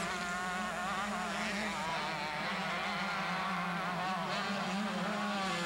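A factory Honda motocross bike at the 1987 Southwick, Massachusetts national screams at high revs with a buzzing, wavering engine note under race commentary, steady and loud throughout.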